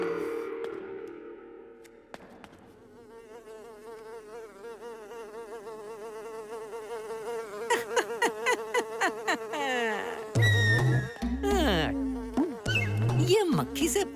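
A housefly buzzes continuously, its whine wavering as it circles near and far, growing louder and more erratic toward the end, with other sound effects from a Hindi-dubbed ghost comedy film mixed in.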